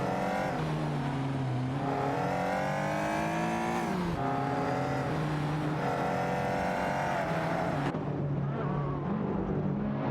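Race cars in an AI racing video game roar continuously, their engines climbing in pitch, dropping sharply at gear shifts around four and eight seconds, then revving up again, loud and close with no voices.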